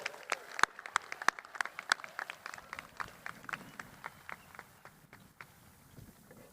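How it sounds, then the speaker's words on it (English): Scattered applause at a Lakeview High School commencement for award recipients and the class of 2025, sharp individual claps near and far in an irregular patter that thins toward the end. "I'd like one last round of applause for all the recipients this evening and the entire class of 2025"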